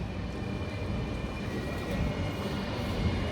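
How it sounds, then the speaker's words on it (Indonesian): A city tram in Freiburg, Germany rolls past with a steady, loud rumbling drone and faint high whine, continuous with no speech. "Kayak ini kereta kota, kayak transportasi umum yang jalan untuk setiap kota."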